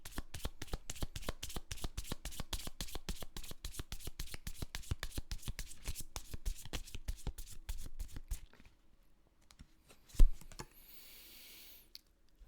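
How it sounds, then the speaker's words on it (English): Angel of Light Oracle cards shuffled by hand in a rapid, even riffle of crisp flicks for about eight seconds, then near quiet with one soft knock. "I'm going to pull you an Angel of Light Oracle card."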